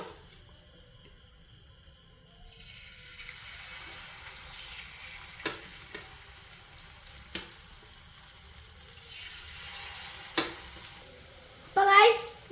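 Cauliflower pieces dropped one by one into hot oil for chilli gobi, a low steady sizzle with a few sharp clinks and splashes and a louder bubbling burst near the end.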